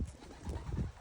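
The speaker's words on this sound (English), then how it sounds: "Nice healthy birds." Pigeons coo softly in a low, murmuring flutter just before being tossed for a flight, a brief close sound with no talk.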